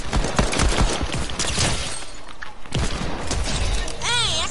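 Rapid bursts of hand cannon gunfire in a first-person shooter video game, loud and dense with repeated shots and impacts, mixed with game effects and a brief voice.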